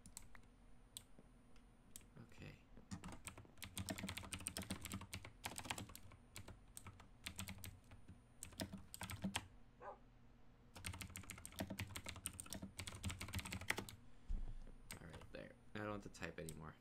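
Rapid clattering keystrokes on a computer keyboard in bursts of steady typing with short pauses between, close and crisp, with a voice talking faintly at times.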